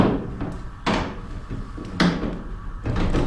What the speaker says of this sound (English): both of these doors open.